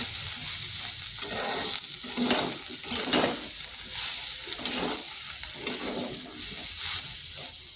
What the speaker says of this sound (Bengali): এমন ভাজতে হবে যেমন সয়াবিনগুলো হালকা বাদামি কালার হয়ে যায়।